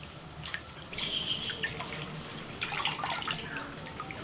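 Water runs faintly from a kitchen tap as a child's hands are washed, with soft dripping and splashing sounding at a low level throughout, and no voices.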